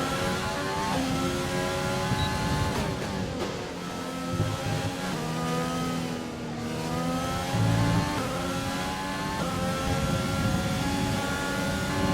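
An F1 car in F1 2020 at the French Grand Prix screams under acceleration, its high engine note climbing steadily through gear changes, loud and continuous throughout.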